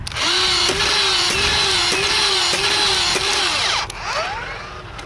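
A Nerf Dart Tag Speedswarm motorized blaster whirs loudly as it fires darts in a rapid rhythmic burst of about six shots, then the motor spins down, close and alone without talk.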